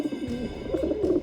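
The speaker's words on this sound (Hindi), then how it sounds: "घर को देख के ऐसे लग रहा है जैसे ये कबूतर तुम्हें पाल रहे हैं, तुम कबूतरों को नहीं।" Pigeons coo close by in a low, throaty, rolling burble, several soft overlapping calls over about a second.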